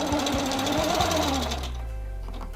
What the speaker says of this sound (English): just baste that right up the side